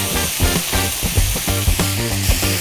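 Beef cubes hiss and sizzle in hot oil in a pan with dried chilies and garlic, a steady close frying sound with a rhythmic musical backing underneath.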